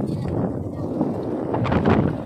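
Wind buffets the microphone in a steady low roar in Pitogo, Quezon province, with a faint voice briefly audible in the background.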